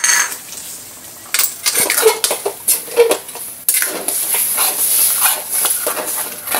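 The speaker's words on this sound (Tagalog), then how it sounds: "Yung mga nakadikit, pinakayod ko kasi malasa yun." A metal spatula scraping stuck chicken bits off a pan while chicken with sweet corn cooks: a run of sharp, irregular scrapes and clinks up close, then a steadier sizzling scrape, with no talk.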